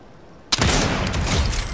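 A sniper rifle fires in Fortnite Chapter 3: after near silence, one sudden loud crack that opens into a sustained, dense wash of noisy clatter and rumble lasting the rest of the moment.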